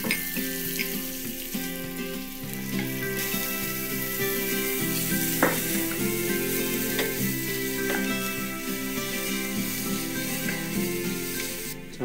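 Carrots, zucchini and oyster mushrooms stir-fry in a pan, a steady close sizzle with soft scraping stirs and occasional clinks running throughout, with no talk.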